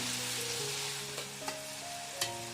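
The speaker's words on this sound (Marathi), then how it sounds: "सो आता हे आपण छान एकत्र असं मस्त परतून घेऊयात" Green chillies sizzle and sauté in hot oil tempering for misal, a steady close frying hiss with a few light stirring knocks, no voices.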